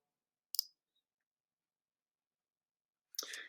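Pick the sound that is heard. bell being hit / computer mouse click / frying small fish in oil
computer mouse click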